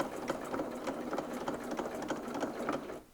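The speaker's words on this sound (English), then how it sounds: "I do a few stitches on the spot just to anchor it." A sewing machine stitching a decorative petal border with a quilting pattern guide, running in a fast, steady mechanical chatter with a rhythmic tick, then stopping abruptly at the end.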